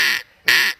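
A person imitates a hunter growling into a duck call, giving two short, raspy, buzzy quacks, close and loud, separated by a brief pause.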